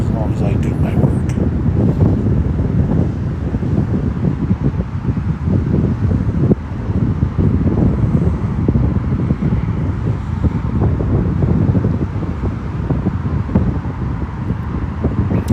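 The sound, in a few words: wind blowing into microphone at lakeside park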